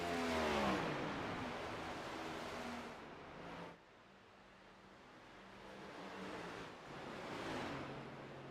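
A race car in a video game at Darlington Raceway rushes past with a loud whooshing swell, then fades to a quieter drift as it coasts engine-off through turns 3 and 4, another faint whoosh near the end.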